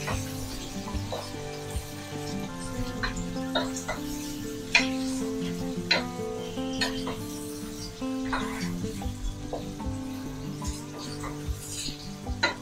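Ginger and garlic paste stirred into 1 kg of beef in a pan for Bengali beef haleem, giving a continuous close sizzle with scraping stir strokes and occasional knocks, under steady music-like tonal background.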